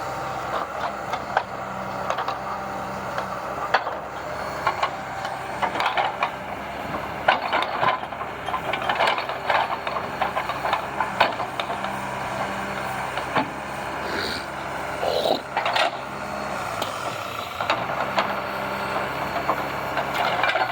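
A Tigercat heavy log loader working close by while loading a truck, with a steady engine drone, hydraulic whine and repeated woody knocks and clunks as logs are dropped onto the truck.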